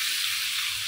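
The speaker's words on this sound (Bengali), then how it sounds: "এখানে আমি ডিমগুলো ভেজে নিচ্ছি" Eggs fry in a pan seasoned with turmeric and salt, giving a steady, close, bright sizzle that holds evenly throughout with no talking.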